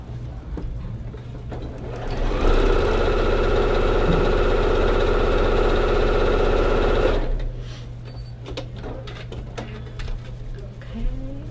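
A sewing machine stitches a straight row across a red-lined quilt block, a steady close mechanical whir for several seconds that starts and stops abruptly, with quiet handling noise before and after.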